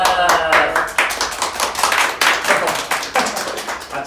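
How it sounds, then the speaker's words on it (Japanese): Audience at the CHIMERA GAMES VOL.5 street culture live event claps, a burst of close, uneven hand claps with individual slaps standing out, lasting throughout. "あっちからの拍手を聞きます"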